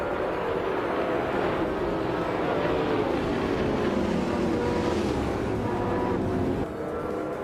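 Pack of race cars at a racing-game start on the Sebring School track, including a 2022 McLaren Elva, a thick steady engine roar with layered rising tones, loud and continuous with no talking.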